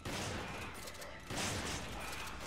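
Sustained gunfire in the video game Resident Evil 5, a dense, steady barrage of shots running nearly unbroken for a couple of seconds, loud and close.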